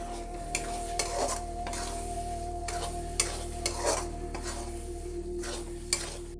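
A sweet mixture of apple and grapes with orange food colour being stirred in a pan, a soft low sizzle under repeated scraping strokes of a spoon against the metal, with occasional light clinks.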